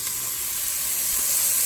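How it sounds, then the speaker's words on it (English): Chopped onions sizzle steadily in a hot pan for beef tips and gravy, a dense, even frying hiss that holds at a constant level throughout with no voice over it. "I'm gonna stir it and stay after it. I want them to get translucent."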